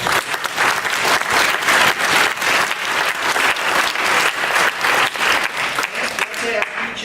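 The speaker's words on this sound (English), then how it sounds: "let's give them a round of applause" An audience at a public debate on Greenlight Pinellas breaks into dense, sustained applause, loud and continuous for several seconds before tapering off near the end.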